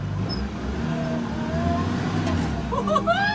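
A JCB Fastrac tractor drives forwards and brakes, with a loud engine rumble and mechanical whine rising in pitch, then a hiss and squeal near the end as it slows.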